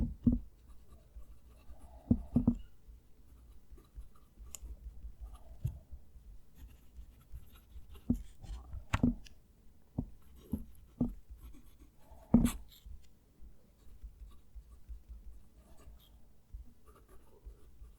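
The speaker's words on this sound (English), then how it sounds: "I move the mic down to the page so you can hear the pen write." A TWSBI Swipe fountain pen with a stiff nib scratches quietly across paper in close, sparse strokes and short scribbles, separated by near silence, with a few sharper taps standing out.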